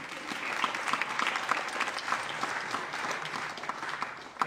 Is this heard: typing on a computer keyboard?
no